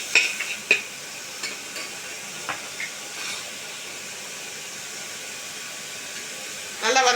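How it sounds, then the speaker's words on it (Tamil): Chopped tomato and onion sautéing in a pan, a steady soft sizzle and hiss with a few sharp scrapes and clinks of a spoon near the start and end. "தக்காளி வெங்காயம் நல்லா வதங்கட்டும்."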